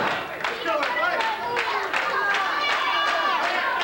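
A 1986 Memphis CWA championship wrestling crowd cheering and clapping for Billy Travis: rhythmic claps and shouts from an arena audience, steady throughout, with crowd chatter mixed in.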